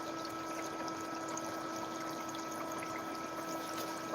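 Steady bubbling and churning water in a bubbling tub, a constant close wash of noise with a low hum beneath, no pauses throughout.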